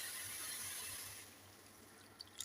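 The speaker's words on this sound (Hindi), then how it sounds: "किलो ही इसके अंदर मैं पानी ऐड करूंगी" Water being poured into one kilogram of sugar to start a syrup, a steady close splashing hiss that fades after a second or so, then a few small clinks.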